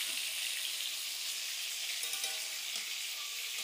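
Spices fry in hot oil in a village kitchen, giving a steady, close crackling sizzle with small pops throughout and no talking.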